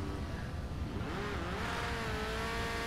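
Racing cars with engines droning steadily, a Mercedes closing in to overtake the car ahead, with the engine pitch rising as it pulls past; a continuous, fairly close engine roar throughout and no voices.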